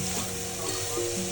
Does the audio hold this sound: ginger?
yes